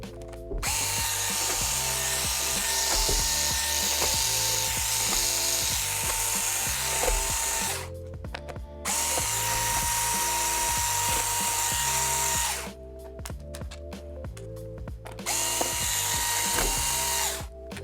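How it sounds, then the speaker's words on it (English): A power screwdriver removes the bottom cover screws of an Acer C733 Chromebook, whirring loudly and steadily at close range in several long runs broken by short pauses and clicking. "flip the unit over and take out the bottom cover screws"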